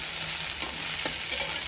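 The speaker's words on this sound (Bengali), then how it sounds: "তো তার জন্য আমি আগে ঘুগনির মশলাটা ভেজে নেব" Ghugni spices frying in hot oil, with cumin, garlic and finely chopped ginger in the pan, give a steady close sizzle broken by a few light stirring scrapes.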